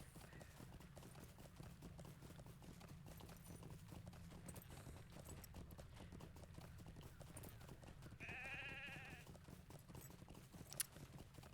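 A video game sheep bleats once briefly, faint against a constant patter of hoofbeats and quiet game ambience.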